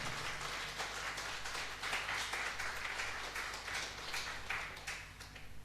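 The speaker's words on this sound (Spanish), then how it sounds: "Dele un aplauso al Señor." A church congregation applauds at a service, a dense and steady wash of many hands clapping for several seconds. The sound is moderately distant and roomy, with no distinct voices on top.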